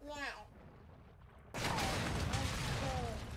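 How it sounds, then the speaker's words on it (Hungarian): A car exploding in the Call of Duty Warzone battle royale game, a sudden loud blast that cuts in after a quieter stretch with a voice, then sustained roaring rumble with whistling tones. "Robbant egy autó."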